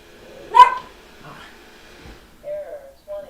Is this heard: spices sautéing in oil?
no